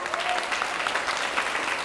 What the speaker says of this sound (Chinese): 恭喜，再一次掌声好吗？